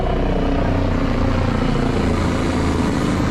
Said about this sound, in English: There's helicopters flying around